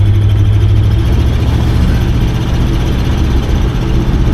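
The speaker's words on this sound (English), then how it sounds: "Give her a little bit of throttle." A 1968 Cadillac DeVille convertible's engine runs steadily with the throttle opened, a loud, continuous low rumble that holds throughout, with no talk over it.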